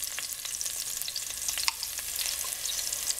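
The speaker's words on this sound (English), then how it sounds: "I'm going to go ahead and add my curry mixture." Onions fry in a pan with a curry mixture for Guyanese mango curry, giving a steady crackling sizzle with scattered sharp pops and light stirring scrapes, close and fairly quiet, with no talking.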